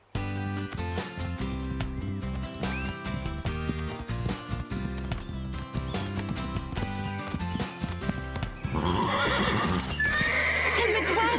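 Cartoon horses neigh and whinny over steady clip-clopping hooves, set against a continuous musical score, with a burst of louder commotion near the end.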